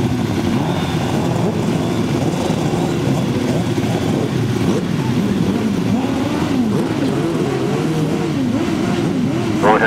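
Racing engines rev together on the start line at a grasstrack meeting, a dense, continuous roar of rising and falling revs that fills the scene without a break.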